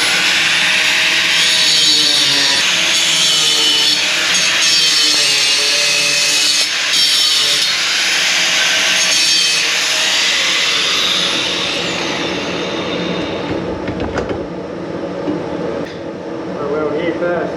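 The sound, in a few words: cutting a welded seam on a trailer build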